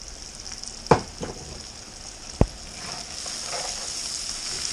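Caramelized onions sizzle steadily in a pan as sugar is stirred in for German potato salad, a continuous soft frying hiss broken by two sharp knocks of the spoon against the pan.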